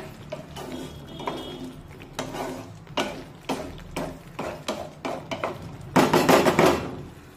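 A spoon scrapes and knocks against a kadhai while semolina sheera for prasad is stirred over a low flame, with a run of separate clattering strokes that turns into a louder burst of scraping near the end.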